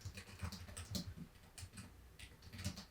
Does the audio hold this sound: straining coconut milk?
no